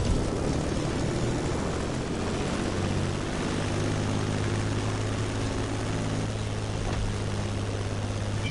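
An airplane flies in the racing game The Crew Motorfest, its propeller engine droning loud and steady without a break, with no talking over it.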